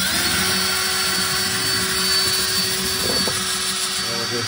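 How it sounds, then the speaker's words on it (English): Power drill spinning a dryer duct cleaning brush inside the duct, a steady whirring motor hum with scraping and rattling bursts, fairly loud and continuous. "we're going to start rotating the drill"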